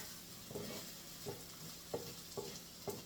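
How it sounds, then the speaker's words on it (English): Onions and peppers sautéing in butter in a pan, with a faint steady sizzle under roughly five evenly spaced scrapes of a utensil stirring them, close and fairly quiet. "I'm going to stir that around."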